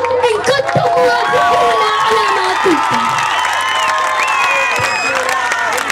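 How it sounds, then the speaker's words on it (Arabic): An audience at a spring march applauds and cheers after a schoolgirl's speech, a loud, steady wash of clapping and shouts with whistles and voices on top. "صفقوا وبقوة إن كنتم موافقين على ما قلتم"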